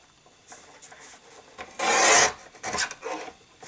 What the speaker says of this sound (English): I just need to trim it at 5 this way